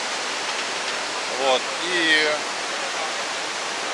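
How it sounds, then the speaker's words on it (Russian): Waterfall in Kongsberg, Norway, a steady broadband rush of falling water holding evenly through the whole stretch, with a voice speaking briefly over it. "Здесь такой вот интересный местный Ниагарский водопад."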